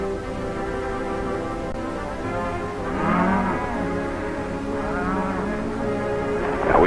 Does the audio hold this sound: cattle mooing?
yes